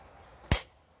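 A single sharp metallic click of the top lever release on a Denix replica coach gun, a double-barrel shotgun, being worked. It snaps out loud and close, then fades quickly against a quiet background.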